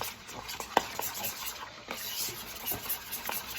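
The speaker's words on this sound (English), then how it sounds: "So we're gonna stir this up." A spoon or whisk stirs batter in a bowl for fried Oreos, giving faint, irregular scraping and tapping with a few sharper clinks against the bowl in a quiet kitchen.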